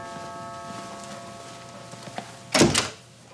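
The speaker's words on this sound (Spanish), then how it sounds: "Giro la puerta." A door being turned open in an indoor scene, a short, sharp latch clatter and thunk near the end after quiet background music, with no talking.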